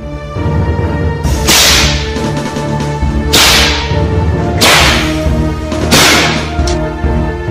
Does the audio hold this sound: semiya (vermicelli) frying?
no